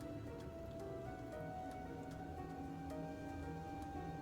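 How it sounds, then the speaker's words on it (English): Rain lashing against windows in a video game, a steady dense patter with scattered sharper drops over a constant low background, continuous and moderately quiet. "The rain lashes harder against the windows."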